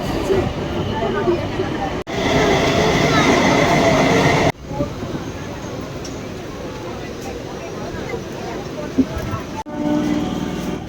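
Heard from inside a moving train headed to Bidhannagar, it rumbles steadily along the rails with a dense, noisy roar that drops briefly at a few moments, and people talk under it.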